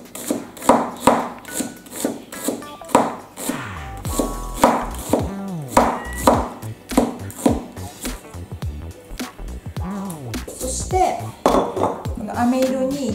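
A knife chops rapidly through a small onion on a cutting board, thinly slicing quarters, crisp, evenly spaced strokes repeating close up, with a few short pauses.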